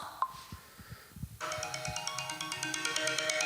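After a few soft taps, a smartphone starts ringing, its ringtone a steady run of repeating bright electronic tones that carries on clearly to the end.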